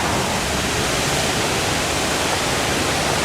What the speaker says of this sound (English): our last waterfall of this video is Sequoia Falls